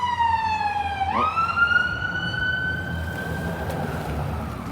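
An ambulance siren passes near a big seaport, a loud wailing tone that dips then rises and holds as the vehicle goes by, over a steady rumble of road noise.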